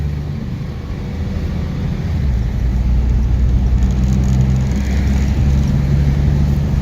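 A car engine pulls steadily in second gear, a continuous low rumble that swells slightly after a couple of seconds and then holds, with no voices.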